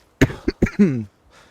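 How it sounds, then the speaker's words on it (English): A few sharp coughs in quick succession, close by, ending in a throaty rasp, followed by a brief quiet breath. "I don't know why I'm coughing"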